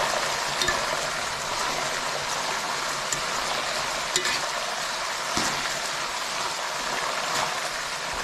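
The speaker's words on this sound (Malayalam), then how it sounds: "ഉപ്പുവെള്ളമാണ് ഒഴിച്ചെടുക്കുന്നത്" Raw jackfruit chips fry in hot oil as salt water is poured in, a steady, even sizzling hiss with occasional faint pops that continues without talk throughout.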